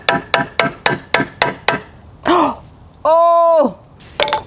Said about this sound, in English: I'm gonna cut some notches in those wood boards with a hammer and a chisel.